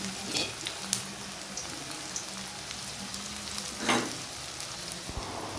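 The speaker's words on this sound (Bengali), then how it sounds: "তেল গরম হয়ে যাবার পর পেঁয়াজ কুচি দিয়ে দিচ্ছি" Chopped onion, ginger and garlic sizzle steadily in hot oil for an egg tadka, with a constant crackling hiss broken by a few louder bursts as the pieces are stirred.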